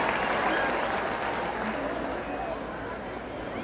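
A large crowd at a political rally in Kisii claps steadily. The loud applause fades slightly over a few seconds, with voices mixed in.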